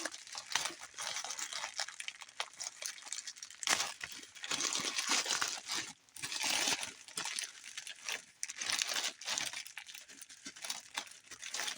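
Plastic packaging around a pillow being torn open and crinkled, with dense, crackling rustles and rips continuing steadily up close for several seconds.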